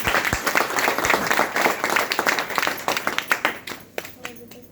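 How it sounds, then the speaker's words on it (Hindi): An audience at a DTM training seminar claps loudly and steadily for several seconds, dense overlapping applause filling the room, with some voices mixed in. "ताली बजा दीजिए जबरदस्त"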